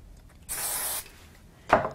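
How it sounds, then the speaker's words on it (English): Aerosol spray can hissing onto card backing during a crafting session: one steady half-second burst, close and fairly loud, followed by a shorter sharp hiss or rustle a moment later. "Give this a quick spray."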